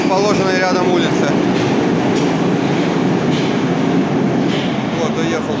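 A Moscow metro train rumbles and clatters steadily as it pulls away from Savyolovskaya station on the Big Circle Line, wheels clicking over the rails, loud and close with a faint voice underneath.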